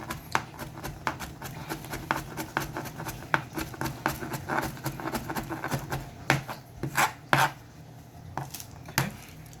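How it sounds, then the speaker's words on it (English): A knife chops lemongrass rapidly on a cutting board, a long run of sharp close taps in irregular bursts with brief pauses. "I'm gonna finish chopping up these and I'll be right back with you."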